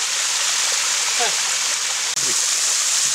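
Water flowing in a stream in the Aymerich park at Laconi, Sardinia, a steady broadband rushing wash that fills the whole stretch, with faint distant voices and a bird chirp barely rising above it.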